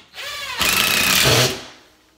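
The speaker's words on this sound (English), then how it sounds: "So I'm just gonna put some screws in this to hold this thing up" A power tool drives screws into a mount for a man-cave build, giving a loud, steady whirring burst of about a second that rises sharply and then winds down, with no talking.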